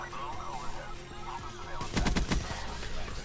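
Call of Duty gunfight: a quick burst of rapid automatic gunfire breaks in after quiet game sounds and muffled voice, a tight cluster of sharp shots over about half a second.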